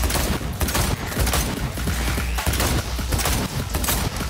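Rapid gunfire in the video game Cyberpunk 2077, a dense, loud burst of shots running continuously with no pauses and no talking.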